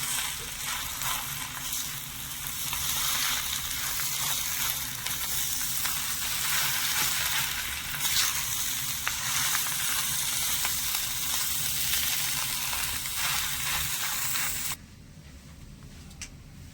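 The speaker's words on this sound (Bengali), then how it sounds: "এবারে সব কিছু ভালো করে মিশে একটু ভাজা ভাজা করে নেবো" Potato and cauliflower cutlet filling with chopped green chili and coriander fries in a pan, giving a loud, steady sizzle with no voices that runs unbroken before dropping noticeably quieter near the end.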